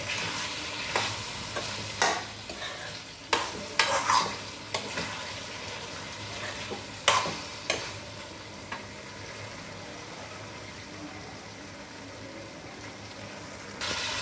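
Drumstick pieces simmer in a pan for a tamarind stew, giving a steady low bubbling and sizzling bed broken by several sharp clinks and scrapes of a stirring spoon, with no voices.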